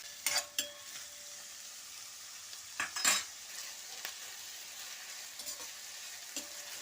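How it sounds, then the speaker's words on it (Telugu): Onions frying in a pan with a steady, faint sizzle throughout, broken by a few clattering scrapes of a utensil stirring them. "ఉల్లిపాయలు వేగుతున్నాయి కదండి,"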